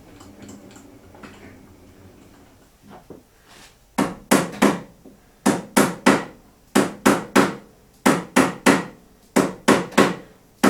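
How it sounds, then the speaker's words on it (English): Hammer blows tapping a part into a Stirshurst engine, sharp close metallic-wooden knocks in quick pairs and triplets, repeated steadily after a few faint taps. "hammer it in a little bit."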